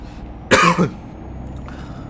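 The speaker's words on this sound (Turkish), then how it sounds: "Arada böyle bir öksürebilirim yine." A single sharp cough, close and loud, lasting about a third of a second, with quiet background noise on either side.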